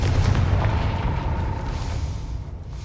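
A Confringo spell blast in the Hogwarts Legacy video game lands as one loud, deep boom that rumbles and slowly fades over a few seconds.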